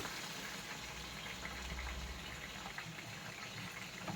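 Ground sauce poured into a pot of Senegalese chicken yassa, a faint, steady liquid pouring and bubbling sound under a constant background hum, with no talking.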